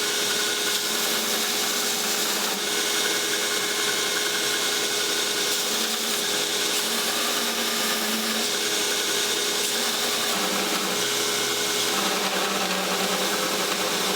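An electric grinder cleans up a forged mosaic canister Damascus steel billet, a loud continuous high-pitched whir and hiss that runs unbroken with no talking.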